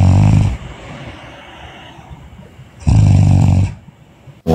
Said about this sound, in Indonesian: Orang ngorok.